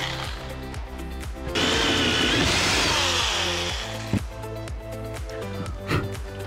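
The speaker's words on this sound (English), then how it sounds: "the first step is to drill a hole on each side for the input and the output" A power drill bores a hole in the side of a DIY Halloween fog chiller, a loud grinding whine rising sharply for about two and a half seconds, framed by quieter clunks and handling noise.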